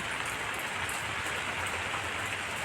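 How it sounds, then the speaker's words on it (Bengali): Rain falls steadily outside on a cold, wet day, a dense, even hiss of drops on surfaces that holds at the same level throughout with no voices. "বাইরে বৃষ্টি হচ্ছে"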